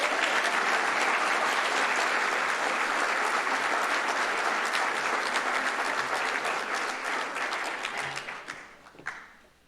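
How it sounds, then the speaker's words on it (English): Audience applause for youth volunteers at a community recognition awards evening: sustained dense clapping filling the room, gradually thinning and fading out near the end. "Please join me in giving these fantastic volunteers a round of applause."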